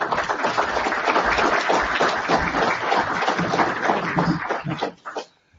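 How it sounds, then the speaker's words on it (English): Audience applauding to welcome a guest economics professor at a lecture, dense steady clapping from many hands that continues for about five seconds before tapering off quickly. "give him a round of applause"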